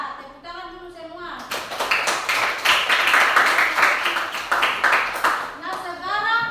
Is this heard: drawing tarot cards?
no